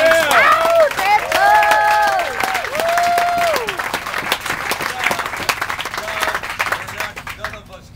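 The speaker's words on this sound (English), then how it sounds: "Let's give them a round of applause." Studio audience applause and cheering for a TV crew, broad clapping under overlapping voices and whoops at the start, thinning out toward the end.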